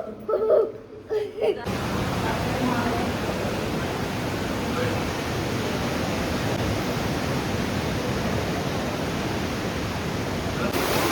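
A rushing, gurgling stream on a cloudy morning outing makes a loud, continuous wash of water that fills the scene after a brief opening of voices and laughter.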